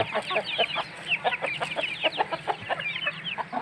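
Chickens on a backyard farm, a hen with her chicks, make quick, repeated clucks and high peeping calls in a busy, close-up chatter.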